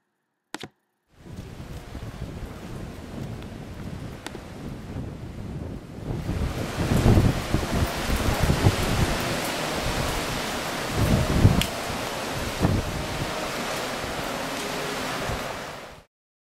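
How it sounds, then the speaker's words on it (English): Waves washing onto the shore of the Sea of Galilee, a steady rolling surf with surges around the middle and end, mixed with wind buffeting the microphone, with no voices. "We're going to let you see and hear a little bit about the Sea of Galilee itself so you can hear what it's like."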